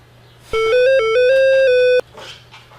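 A telephone rings once with a loud, close electronic melodic ringtone of stepped tones lasting about a second and a half, then stops, followed by faint background noise.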